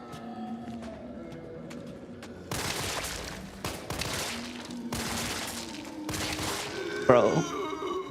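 Bursts of gunfire in a video game cutscene, several heavy volleys spread over several seconds, with a groan near the end and a tonal game soundtrack running underneath.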